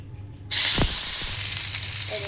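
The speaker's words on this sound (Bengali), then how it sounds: "এখানে কড়াইতে তেল দিয়ে দিচ্ছি, গরম হয়েছে, এখন ভেজে দেবো মাছগুলি" Dried isa shrimp hitting hot oil in a wok burst into a loud, steady sizzle that holds strongly to the end, with a couple of faint clinks early on and no talk.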